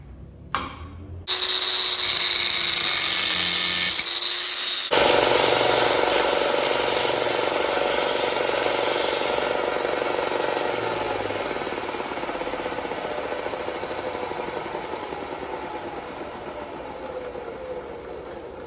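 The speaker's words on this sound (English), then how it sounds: "then I just start shaping the rest of it over on the belt sander" Belt sander grinding and shaping a metal part for a Roots-supercharged Harley-Davidson chopper, a loud, steady abrasive whine that runs continuously for the whole stretch after a brief startup and some clanks at the beginning.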